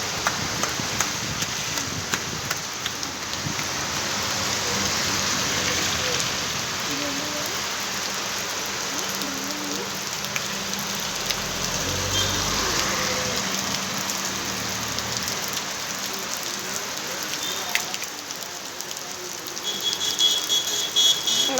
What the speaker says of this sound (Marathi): आखान पावस येता.